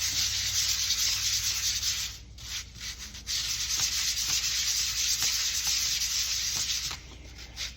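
Pocket knife liners are sanded by hand to remove burrs, making a close, loud, raspy scrubbing in long back-and-forth strokes, with a few short pauses between passes and no voices.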